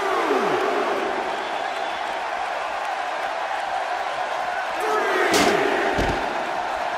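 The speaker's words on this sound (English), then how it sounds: "by the sound of this crowd, I think they're getting what they wanted" A large arena crowd roars and cheers through a WWE 2K17 Raw match between Kofi Kingston and The Miz, a loud sustained wash of noise with a couple of swelling bursts and a thud near the end.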